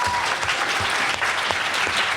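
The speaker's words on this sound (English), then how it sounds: "Please give them a round of applause." Audience applause for the panelists at a Comic-Con 2015 panel, steady dense clapping that stays loud and even for the whole stretch.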